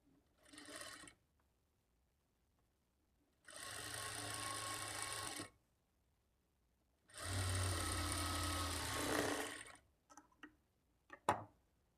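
A sewing machine stitches a blouse lining and folded shape belt in three bursts of rapid, whirring stitching, short then two longer, separated by quiet pauses and ending with a few small clicks.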